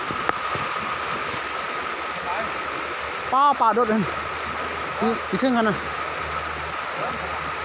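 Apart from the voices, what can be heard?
flowing stream water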